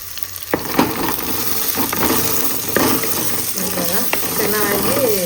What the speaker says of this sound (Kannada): ಇದು ಟೊಮೆಟೊನ ಸ್ವಲ್ಪ ಬಾಡಿ ಹೋಗೋ ಥರ ಫ್ರೈ ಮಾಡ್ಕೊಳ್ಬೇಕು